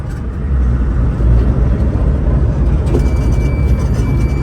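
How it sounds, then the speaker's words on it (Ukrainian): A John Deere 1158 combine harvester's engine runs with a loud, steady low rumble close by, a faint high whine emerging partway through. "Ось так, зараз запустимо машину."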